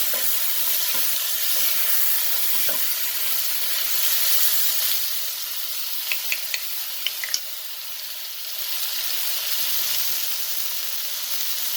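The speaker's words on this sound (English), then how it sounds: "And now we're gonna mix it up together" Chicken and fresh mixed vegetables stirred together in a hot pan, a steady hissing sizzle running throughout with a few light utensil clicks near the middle.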